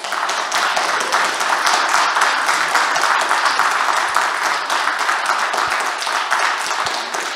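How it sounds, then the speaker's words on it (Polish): An audience at a local history club meeting in a community centre hall gives sustained, dense applause after a talk. Many hands clap loudly and continuously throughout, with no pause and no speech. "Myślę, że oklaski dla pani Janiny."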